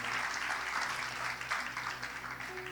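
A church congregation applauds, a dense, even wash of clapping that sounds somewhat distant and subdued, with a low steady hum running underneath throughout.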